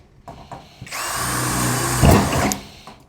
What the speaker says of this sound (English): No resistance on the drill bit whatsoever.